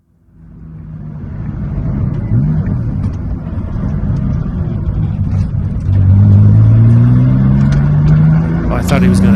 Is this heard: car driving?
yes